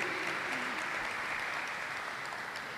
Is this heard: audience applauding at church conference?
yes